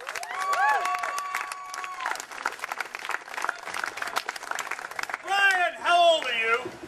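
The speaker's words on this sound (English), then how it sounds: "please clap for this boy" A comedy show audience claps and cheers for a young man in the crowd, lively applause swelling under loud, laughing talk from the performer and shouts, with voices rising over the clapping at the end.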